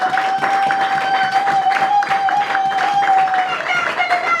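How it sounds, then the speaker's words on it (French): An audience at a gathering in Kinshasa applauds in a dense, steady wash of clapping that holds for the whole stretch, with a thin sustained tone running through it. "Il mérite des fleurs, il mérite des applaudissements. Si vous pouvez encore applaudir pour lui."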